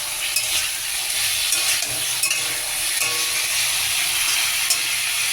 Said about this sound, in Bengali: মশলাটা আমি একটু কষিয়ে নিই